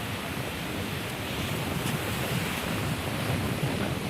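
Wind blows across the beach at Tenneti Park in Visakhapatnam (Vizag), a constant rushing roar blended with surf and microphone buffeting, steady and close throughout.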